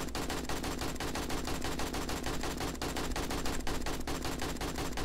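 Sustained automatic gunfire in the video game 7 Days to Die, a dense, rapid stream of shots hammering without pause at steady loudness for several seconds, slightly distant.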